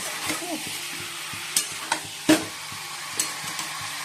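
A spoon stirs and scrapes papaya and potato curry frying in a pan, with a soft continuous sizzle under a few sharp metallic knocks and scrapes, close up, with no talking.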